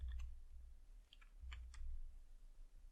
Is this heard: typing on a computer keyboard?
yes